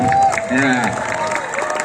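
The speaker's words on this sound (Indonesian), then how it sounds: "Tepuk tangan dong buat Bapak Ibu Guru yang sudah hadir" Students and teachers at a Jakarta high school event applaud the teachers present, a short burst of crowd clapping and cheering mixed with voices and a background tone.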